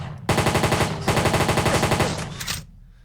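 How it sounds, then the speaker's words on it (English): A custom SMG in a Roblox game still in development fires in two rapid sustained bursts of evenly spaced shots, loud and close, with a brief gap between them and no talking. "So this one right here is a little SMG."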